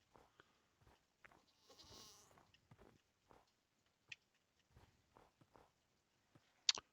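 A goat in Minecraft, heard as a soft bleat followed by scattered footsteps and small clicks and bumps, all faint and sparse against near silence, ending in a sharp click.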